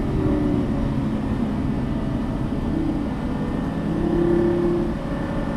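A Lamborghini Gallardo Superleggera LP570-4 accelerates hard, its engine drone climbing in pitch and then dropping briefly at an upshift before it climbs again, loud and steady throughout.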